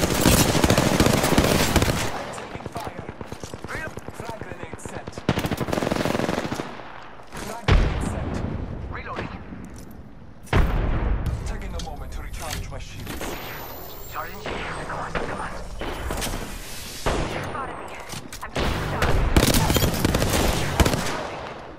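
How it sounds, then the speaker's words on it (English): Rapid automatic gunfire and blasts from a firefight in the battle royale game Apex Legends, with bursts of fire, sharp single shots and short pauses. The sound is loud and close, and game voice lines come through between the shots. "I'm taking fire."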